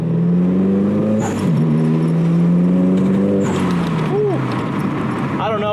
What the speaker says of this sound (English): I don't know if it's the JB1 that's making the blow-off valve a bit louder too